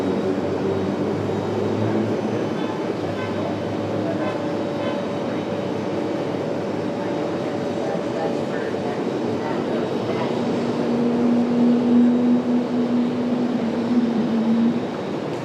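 Southwest airliner taxiing at Raleigh-Durham airport, a steady low engine rumble and whine filling the clip, with a tonal hum rising later, while a voice talks over it.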